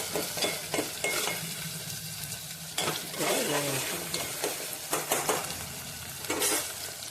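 Country chicken curry frying in a pan and stirred with a utensil, steady sizzle broken by repeated scraping strokes against the metal, close and moderately loud with no talking.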